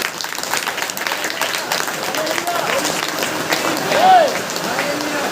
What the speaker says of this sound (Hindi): जोर जोर से ताली बजाओ।